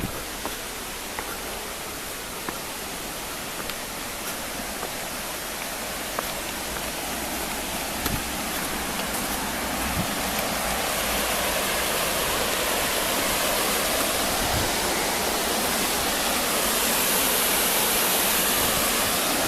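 A river rushes in a steady, loud broadband roar that swells slightly over about twenty seconds, heard close on a windy day in Glasgow with no voices.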